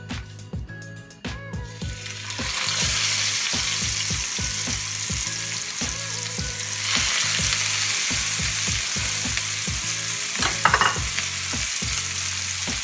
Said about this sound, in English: So what I'm gonna do is lay steaks into the pan.